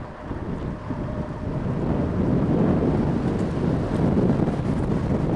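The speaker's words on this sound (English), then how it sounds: "Breezy though, gust up to about 29 miles per hour" Gusty wind buffets the microphone during a bike ride around town on a breezy autumn day, a loud, continuous rumbling roar that swells and stays strong, with no talking.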